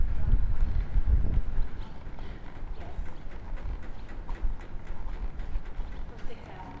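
A horse at a jog during a beginner riding lesson gives soft rhythmic hoofbeats on the ground, moderately close, with a voice speaking over them.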